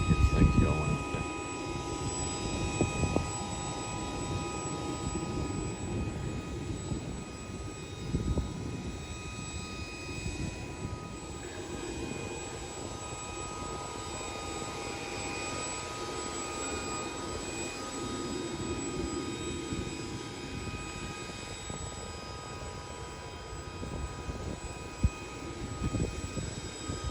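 A Chinook helicopter's engines run on the ground, a loud, continuous turbine roar with a steady high whine layered on top and faint voices beneath.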